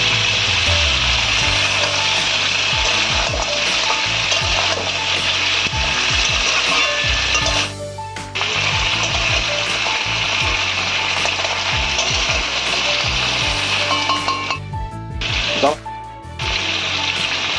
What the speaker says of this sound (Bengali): পেঁয়াজের সঙ্গে কাঁকড়াটা আমরা ভেজে নেব।